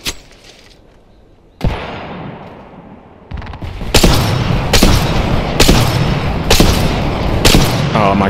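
Gunfire from a Longbow sniper rifle in the video game Apex Legends. A sudden loud report is followed by a run of sharp, evenly repeated heavy shots, close and punchy, with no voices over them.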